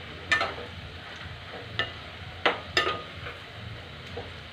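Pakoda frying in a pan of oil, a faint steady sizzle with a few sharp clinks and scrapes of a utensil stirring now and then; no talking.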